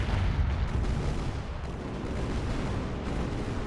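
A ship's cannon salvo roars in a naval battle in the video game Age of Pirates 2, a dense, continuous rumble of booming gunfire, loud and close, with no speech.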